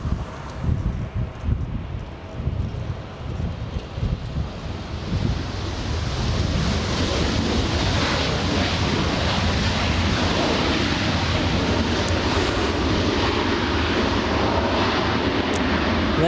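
A Southwest airliner arriving at LAX from Salt Lake City, its broad jet roar swelling from a faint hiss into a loud, sustained rush that blends with heavy wind noise on the microphone.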